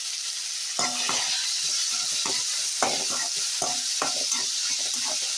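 Onions and tomatoes sauté in hot oil for mutton fry, a constant sizzle broken by a series of irregular scraping, clattering strokes as a spoon stirs the pan, close and clear, without speech.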